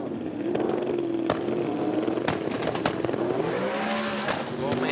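A drag race run between a Mustang and a pick-up truck at a World Cup Finals import-versus-domestic elimination event: engines roar and climb in pitch with sharp mechanical bursts, while an announcer talks over them.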